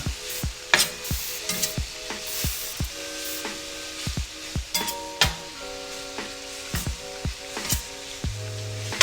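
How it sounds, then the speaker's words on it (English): Mushrooms sizzle in oil in a pan as they are stirred to combine for a pasta dish, with repeated utensil knocks and scrapes against the pan over a soft frying hiss. "We're gonna go in with our mushrooms. And then give them a quick mix to combine."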